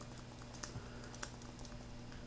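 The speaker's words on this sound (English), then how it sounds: "So I'm just typing." Faint, quiet typing on a computer keyboard while working in Microsoft Word: scattered soft key clicks with a couple of sharper taps over a low electrical hum.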